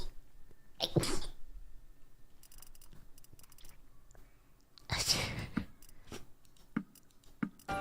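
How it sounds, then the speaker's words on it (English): A woman sneezes loudly and close, one sharp burst early on and a second stronger sneeze a few seconds later, with quiet room noise and small clicks between them during a live stream. "I'm gonna sneeze at you."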